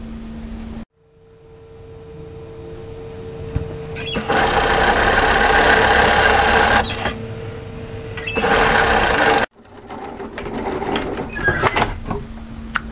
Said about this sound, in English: we're sewing here with a 1 centimeter, 3/8 of an inch seam as well